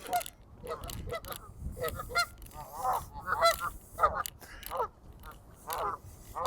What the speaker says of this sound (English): Good morning, geese.